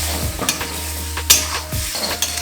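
Minced meat keema fries in a pan under a steady sizzle while a spoon scrapes and knocks against the metal in several quick, close stirs.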